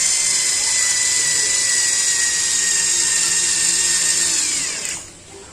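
An Ingco electric screwdriver whirs steadily as it drives a screw, a loud, continuous high-pitched motor whine that holds for about five seconds and then cuts off abruptly.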